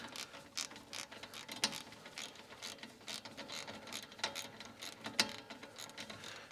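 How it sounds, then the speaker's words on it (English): A ratcheting torque wrench tightening the brake caliper slide bracket bolts to the steering knuckle on a Dodge Ram 1500, giving a rapid series of close, crisp metallic clicks with occasional sharper ticks, with no talk. "I should have torqued the caliper, the slide bracket bolts to the knuckle"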